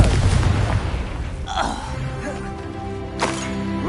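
Confringo fire-blast spell in a Harry Potter video game: a loud booming burst near the start with a crackling impact, followed by lingering rumble and ringing magical tones, then another bright burst near the end.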